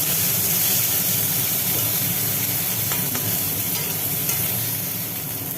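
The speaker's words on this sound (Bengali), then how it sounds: "ফোড়নটা ভাজা ভাজা হলো" Spices for tempering mung dal sizzle and crackle in hot oil, a loud, dense, steady hiss with occasional faint clinks, no one talking.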